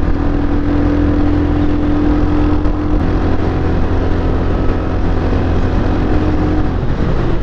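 A Royal Enfield Hunter 350 motorcycle cruises along an expressway, its engine holding a steady, continuous drone under heavy wind rush from start to finish.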